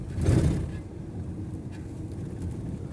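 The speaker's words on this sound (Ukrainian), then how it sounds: "Ось, їдуть, їдуть легкові" Passenger car driving past on a badly damaged road, a brief engine swell up close followed by a low steady rumble of tires and traffic.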